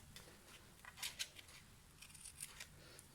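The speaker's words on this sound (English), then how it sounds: "I am going to cut them into a little banner" Scissors snipping through ribbon to form a small banner for a handmade framed card, a few quick crisp cuts clustered in the middle and near the end, close and fairly quiet with no talking.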